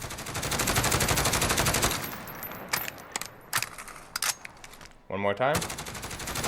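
Sharp, rapid bursts of SIG556 rifle fire in Call of Duty Modern Warfare, first one long continuous volley, then several short separate bursts, loud and close, with a brief spoken remark between them.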